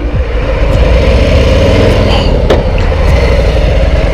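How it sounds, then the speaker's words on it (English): A 2021 Harley-Davidson Low Rider S with a big Milwaukee-Eight V-twin rumbles loudly and steadily, its deep engine note holding near and continuous with no talk over it. "I love that engine. I love how it just gets up and goes."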